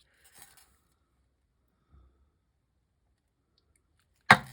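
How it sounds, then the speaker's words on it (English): A sudden loud clatter near the end as a stamp slips from a hand and knocks against a surface, after a few faint rustles and a soft thump. "That about slipped right out of my hand, but luckily it didn't mess the stamp up."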